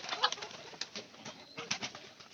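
Pigeons coo softly and repeatedly at close range, their low murmuring calls running steadily under a hiss of background noise, with occasional light flutters.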